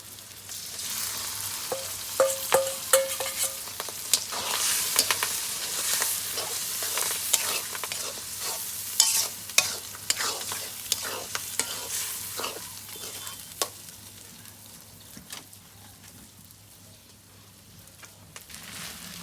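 Fish roe fries in a pan with browned onions, a continuous hissing sizzle with frequent spoon scrapes as it is stirred, the frying growing quieter toward the end.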